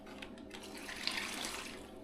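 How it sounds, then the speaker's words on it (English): A liquid mixture, a brine for smoking fresh mackerel, is poured into a bag, making a soft, steady gurgling stream that runs throughout at low volume, close by with no speech. "pour it into the bag."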